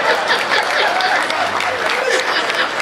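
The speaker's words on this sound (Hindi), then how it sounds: "अब किसान के जवाब पे आपकी तालियां आनी चाहिए।" An audience claps in sustained, loud applause with a few chuckles from the crowd, filling the space continuously.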